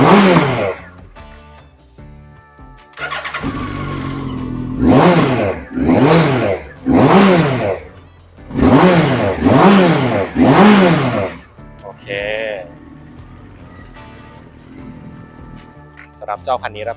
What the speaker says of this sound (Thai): มาฟังเสียงเครื่องยนต์กันครับ สีสูบเรียงนะครับเสียงนุ่มๆหวานๆ